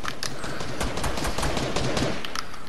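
Rapid automatic gunfire from an enemy's gun in a shooter video game, a dense, continuous burst of close, loud shots with no pauses.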